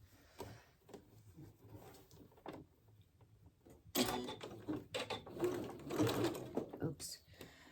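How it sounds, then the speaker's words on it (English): A home sewing machine stitches the right-sided neck binding of a McCall M8256 garment, starting with soft intermittent runs and turning into a louder, steady whir of stitching in the second half, with a person talking throughout. "You're gonna sew"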